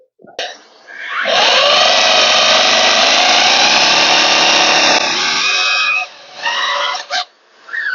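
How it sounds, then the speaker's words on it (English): A power drill with a 6mm SDS bit bores a pilot hole, starting with a short bump, then a loud continuous whine for several seconds, followed by a few brief bursts before stopping. "I'm going to pre-drill that with a 6mm SDS drill bit"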